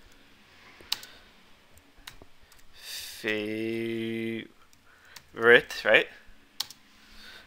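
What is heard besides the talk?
typing on a computer keyboard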